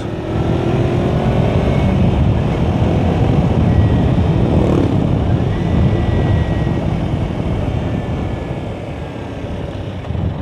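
A Kawasaki Versys-X 250 Tourer motorcycle engine, during break-in, drones loudly and continuously while riding, a dense rumbling roar with wind noise and no noticeable changes in pace.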